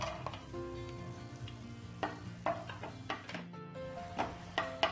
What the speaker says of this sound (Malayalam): ഇതിലേക്ക് അണ്ടിപ്പരിപ്പ്, മുന്തിരി എന്നിവ ഇട്ട് വറുത്ത് കോരിയെടുക്കുക.